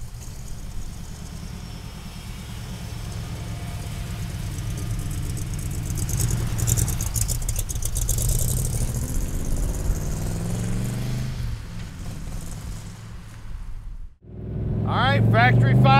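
A Factory Five Shelby Cobra replica with a 5-speed runs its engine at close range. The low rumble holds steadily and swells slightly, then dips sharply before revving back up near the end, with talk over it.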